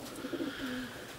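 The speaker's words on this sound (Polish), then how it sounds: "Właśnie to jest gołąb Werkamena," A racing pigeon, a dark black cock bird, gives a soft low coo close by, faint and brief against quiet background.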